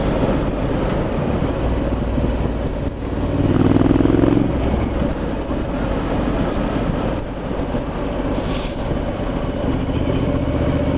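A 2019 Triumph Street Scrambler 900 motorcycle heard from the rider's position, its engine droning steadily with a swell in revs partway through, overlaid by heavy wind rush.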